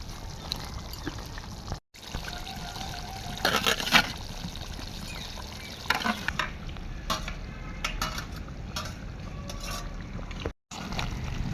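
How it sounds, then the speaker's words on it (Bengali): A spoon stirs ground spinach paste into cooked chicken in a pan over a village kitchen fire, with scraping, sloshing and faint sizzling in irregular bursts, close and moderately loud. "মাংসর সাথে শাকটা ভালো করে মাখিয়ে নেব।"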